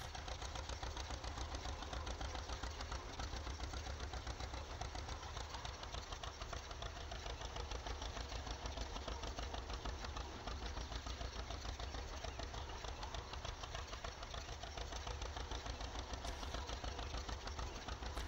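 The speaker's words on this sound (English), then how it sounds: "Can't actually turn it off from in the tractor" A farm tractor engine idles steadily and continuously at close range, with a constant even chug and no voices.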